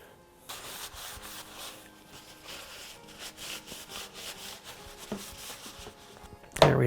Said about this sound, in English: Just a little bit of sanding helps all of that pop out.